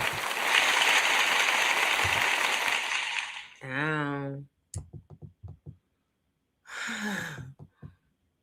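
A dense wash of applause fills the first few seconds, then cuts off sharply. A single voice follows, speaking in short bursts with pauses of silence between them.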